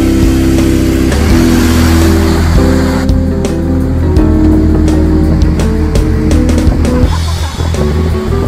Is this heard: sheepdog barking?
no